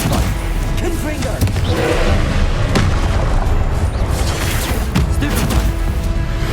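Explosive booms from the Confringo fire spell in Hogwarts Legacy, several blasts and thuds in a loud, busy battle with combat whooshes and shouted incantations over the top.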